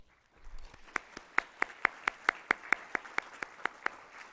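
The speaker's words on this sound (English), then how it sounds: "a big round of applause for all of our speakers today" An audience at a healthcare symposium applauds after a series of speakers, with about fifteen sharp, evenly spaced claps standing out close to the recorder over a softer spread of clapping across the room. No voices are heard.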